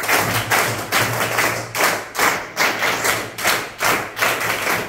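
Children in a classroom do a scout clap, a loud, rhythmic series of about ten sharp group claps in an evenly spaced pattern.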